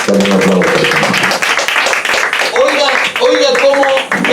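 A church congregation gives loud, dense applause during a Spanish-language sermon, with a voice speaking over the noisy clapping.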